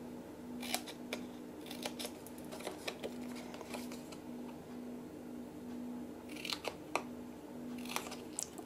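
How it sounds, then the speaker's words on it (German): Scissors snip out the corners of a cardboard drawer box for holding chocolate bars, a run of close, sharp cuts in uneven bursts with quieter pauses between them. "ich schneide jetzt hier meine Ecken aus."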